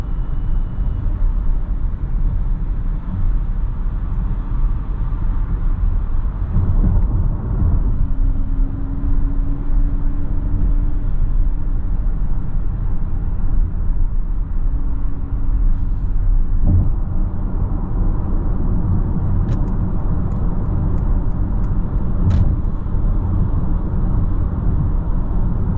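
A 2022 Mercedes-Benz EQS 580 electric sedan cruises on a highway under manual control, giving a steady, loud broadband road and wind roar with faint tonal whines and a few brief high ticks near the end, no talking.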